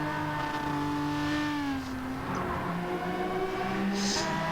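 A race car engine in Gran Turismo 7 drones steadily through a chicane, its pitch dipping and rising as the car brakes and accelerates, loud and continuous with no talk.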